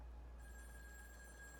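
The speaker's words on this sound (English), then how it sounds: "we're going to get a phone call right now." A telephone rings faintly in the In Sound Mind video game, a steady electronic tone that starts a moment in and holds under a low background hum.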